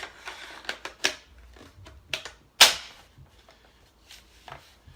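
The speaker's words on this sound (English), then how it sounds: "let's go ahead and put this mag on here and see how this is" Magazine being fitted into an airsoft ProShop MP5k or FN P90, a run of sharp plastic clicks and scrapes with one louder snap near the middle, then faint handling noises.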